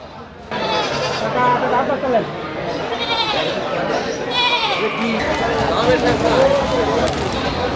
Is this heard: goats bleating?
yes